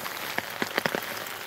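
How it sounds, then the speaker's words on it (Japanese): Heavy rain pours steadily in a forest at night, a dense constant hiss close by with a few sharper drop hits standing out, no talking. "やば、雨やばいよこれ。"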